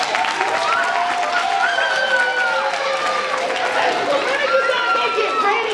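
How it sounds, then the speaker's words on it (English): Applause from an audience at a fall awards program, steady and fairly loud, with crowd chatter and voices mixed through it. "Let's give her a round of applause."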